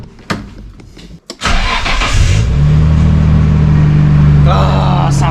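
A Nissan Skyline R32 GT-R engine with a new exhaust cranks, catches and settles into a loud, steady rumble with a deep exhaust tone, a few short bursts of speech over it.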